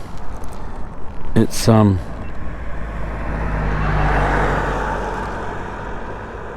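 A 1988 Harley-Davidson Heritage Softail with a sidecar rumbles steadily on a spring country ride, a low engine drone with rising wind rush, briefly overlaid by a person speaking near the start.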